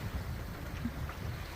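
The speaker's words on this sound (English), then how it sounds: "We're out sailing, got spinnaker up" Sailboat running under spinnaker on the Great Lakes in a light 7 to 8 knot breeze, with steady wind rush and water swishing along the hull, an even wash of noise with no voices.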